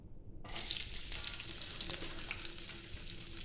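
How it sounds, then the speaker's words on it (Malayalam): Coconut and onion frying in an Indian-style pan, a steady dense sizzle that starts abruptly after a brief quiet moment and holds loud and close throughout, with no talking. "തേങ്ങയും സവാളയും വറുത്തിടണം."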